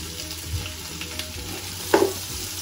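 Sliced onions dropped into hot oil with fenugreek seeds and cumin, a low steady sizzle with a brief clatter partway through.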